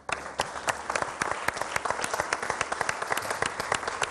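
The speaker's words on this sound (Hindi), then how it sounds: "मिराज के लिए बहुत सारी तालियां" A studio audience at a TV iftar show claps for a guest called Miraj, sharp individual hand claps standing out over a steady wash of applause, fairly close and even throughout.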